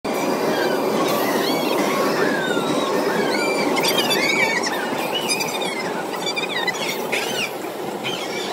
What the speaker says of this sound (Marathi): आता आम्ही पण बसलो ट्रेन मध्ये